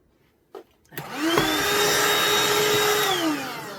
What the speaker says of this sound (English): vacuum any mess